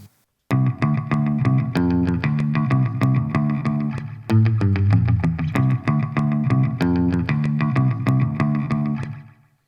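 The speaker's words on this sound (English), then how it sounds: "here is how it sounds in the recording with some low-pass filter and slapback echo" A music recording with a low-pass filter and slapback echo: muffled, rhythmic plucked and strummed notes with short repeating echoes, steady and fairly loud, with a brief pause midway.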